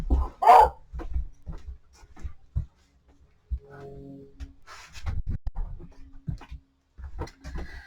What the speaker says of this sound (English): Oh, the dogs are going to bark.